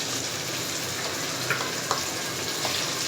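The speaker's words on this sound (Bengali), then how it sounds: "মাছটি একটু ভাজা নিলে ভালো হয়।" Fish fries in oil on an electric stove, a steady close hiss of sizzling with a few faint pops and clicks and no talking.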